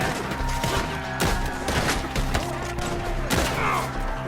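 A dense gunfight in the Red Dead Redemption 2 prologue: rapid, overlapping gunshots crack in quick succession, some close and loud, others further off. The fire comes in bursts with short gaps between them, over a steady background of battle noise.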